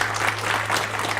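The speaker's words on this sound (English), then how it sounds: "So let's give them a round of applause." A library audience gives a round of applause for visiting authors, a short burst of dense, even clapping from a crowd over a low steady hum.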